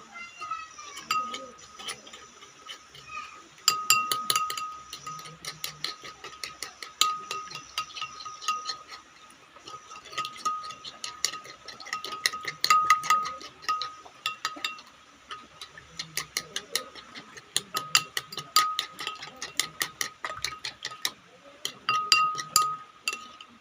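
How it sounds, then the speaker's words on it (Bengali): Egg and pumpkin-leaf recipe ingredients being stirred in a bowl, with rapid, irregular clinking of a utensil against the bowl throughout and faint background sounds. "এবার এটাকে আমরা ভালো করে ঘেঁটে নেব"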